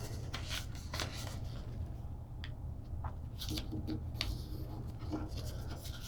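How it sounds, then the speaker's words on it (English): Origami paper being folded along the center and creased, giving soft, close rustles and crisp scraping strokes in short bursts. "we're going to take this edge and fold it along the center."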